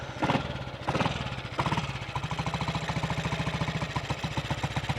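A 1958 Triumph Tiger Cub motorcycle engine kicks over with a few loud bursts, then settles into a rapid, uneven, lumpy single-cylinder idle, close by and steady with no talk.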